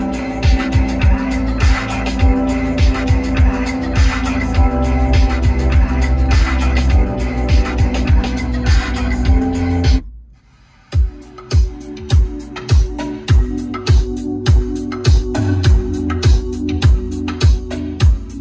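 Music plays through the audio system of a 2008 Mercedes-Benz CL63 AMG fitted with Bluetooth and a hybrid power capacitor, with a loud, steady thumping beat and tonal layers that cut out briefly midway, then resume with sharp rhythmic hits.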